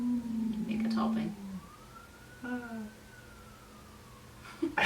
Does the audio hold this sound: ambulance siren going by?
yes